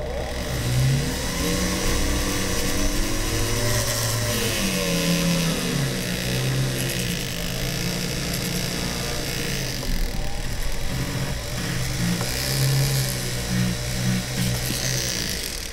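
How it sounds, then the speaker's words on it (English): Power tool fitted with a black silicone polishing wheel working on copper, giving a loud, continuous motor whine whose pitch wavers up and down throughout as pressure changes. "So let's try this with the black silicone wheel."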